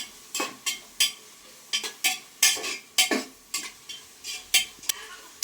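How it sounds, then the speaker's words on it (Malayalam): Tomatoes being stirred and sautéed in a pan for biryani, a spoon scraping in a steady run of sharp strokes over a faint sizzle, close and alone with no talk. "തക്കാളി ഇഷ്ടൊന്ന് വഴറ്റിയെടുക്കാം."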